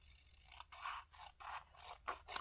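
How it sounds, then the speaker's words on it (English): Scissors trim thick paper in a quiet craft setting, four or five distinct rasping snips in a steady rhythm, close and fairly soft, with no voices. "Now we're going to trim this little guy down."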